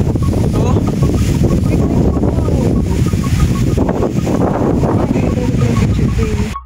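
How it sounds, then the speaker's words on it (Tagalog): Strong typhoon wind near the peak of Mt. Sembrano roars steadily into the microphone, a dense buffeting rush that continues without pause throughout. "Grabe mga guys, lakas ng hangin."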